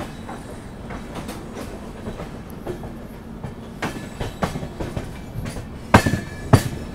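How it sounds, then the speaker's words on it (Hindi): A premium long-distance train to South India races through Ajni railway station at high speed, giving a steady rolling rumble and rattle with sharp, loud clanks of the wheels near the end, and no voices. "अपनी ट्रेन अभी अजनी रेलवे स्टेशन को हाई स्पीड स्किप कर रही है"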